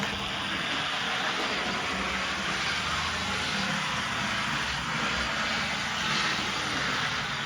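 A Fleischmann HO-scale C&NW Baldwin VO switcher model locomotive runs steadily, giving a continuous close whir and hum with a faint squeal from its sprung pickups, unbroken for the whole stretch.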